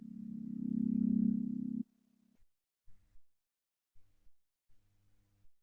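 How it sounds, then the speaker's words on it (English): A low droning beta brainwave tone swells loudly for under two seconds, drops to a short steady hum, then gives way to quiet, brief low pulses separated by silence. "So this is the so-called beta sound frequency"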